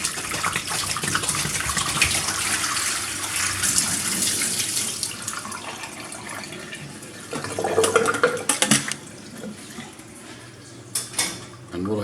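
Water flushed through a water dispenser's bottom sump is emptied out in a steady splashing pour, then settles into scattered splashes and a few clattering knocks.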